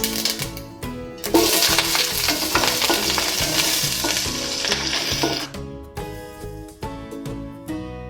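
Onions and curry leaves with popped mustard seeds frying in hot oil in a pan for ragi semiya upma, giving a steady loud sizzle with a burst of crackling and occasional stirring scrapes throughout, no talking.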